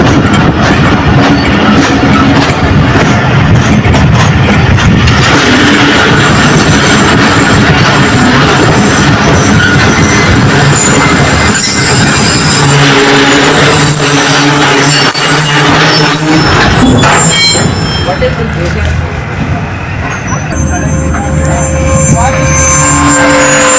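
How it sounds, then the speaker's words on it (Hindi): The Green Line Express train rumbles loudly past a loop near Karachi, a dense roar of wheels and carriages with squeals and clatter, easing toward the end. Voices can be heard over it. "अब इसका खतरनाक एक्शन ग्रीन लाइन एक्सप्रेस का, देखते हैं कैसा हुआ एक्शन"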